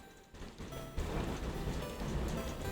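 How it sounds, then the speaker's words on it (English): Steady rain comes through an open window, a dense continuous patter that swells a little after the first second and holds at a constant moderate level throughout, with no voices. "How loud is the rain in the background?"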